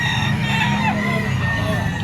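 Gamecock roosters, a sweater bull stag among them, crow and cluck in a busy yard, the calls overlapping against a steady background hum and nearby murmuring voices.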